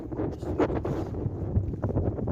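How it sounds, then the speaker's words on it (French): Wind buffets the microphone in low, rumbling gusts, loud and close, with no one speaking. "parce qu'il y a du vent."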